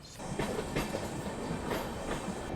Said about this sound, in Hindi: फाइनली अपना अराइवल हो रहा है रानी कमलापति रेलवे स्टेशन पे, और यहाँ ट्रेन ऑलमोस्ट ऑन टाइम पहुँची है।